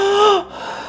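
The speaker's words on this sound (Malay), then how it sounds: "Tercungap-cungap mulut pesakit perempuan ni." A woman gasps sharply for breath, one strained, rising intake lasting under half a second, then quiet breathing.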